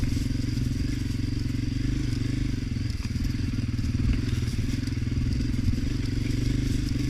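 A Honda CRF250F dirt bike engine drones steadily and loudly while being ridden, a constant low rumble with faint rattles and knocks throughout.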